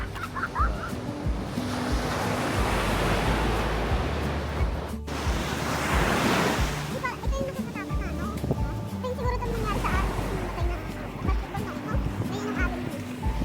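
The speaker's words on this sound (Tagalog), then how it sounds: "Nakatakot yung alon." Ocean waves wash onto Pati Beach in steady, loud surges, with voices talking over the surf throughout.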